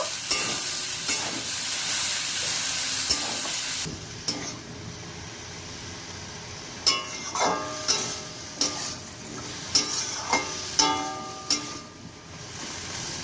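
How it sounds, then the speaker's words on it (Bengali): Malabar spinach, mixed vegetables and jackfruit seeds are tossed in a pan for a vegetarian dish. A bright sizzle gives way to a series of distinct, evenly spaced scraping stirs that sound close and clear, with no one talking. "এক দু মিনিট একটু নেড়ে ফেলে নেব"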